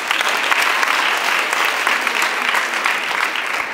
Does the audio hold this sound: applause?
yes